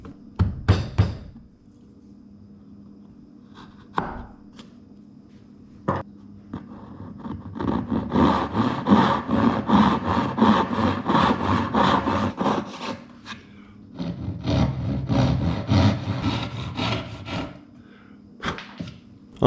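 A hand saw rasps through wood while cutting parts for a step stool, with a few sharp knocks early on, then long stretches of steady back-and-forth sawing strokes, close and fairly loud, with brief pauses between bursts.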